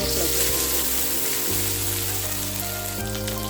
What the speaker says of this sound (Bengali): পেঁয়াজটা ভালো করে ভেজে দেব।